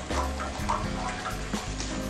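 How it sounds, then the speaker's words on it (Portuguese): Cooking water from boiled penne being poured into a pan of pasta being made with dried beef, calabresa sausage and bacon; a steady, close liquid pour runs continuously throughout, with no talking over it. "vamos também juntar um pouco mais da água do próprio cozimento do macarrão"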